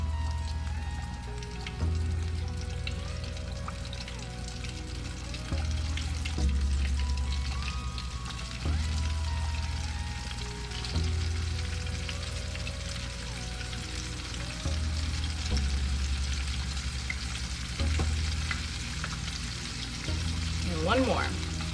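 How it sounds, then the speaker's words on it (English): Mustard-coated chicken pieces frying in oil, giving a steady, close sizzle with faint crackle throughout and a few soft clinks or stirs, with no talking. "These are going to fry for about 8 minutes."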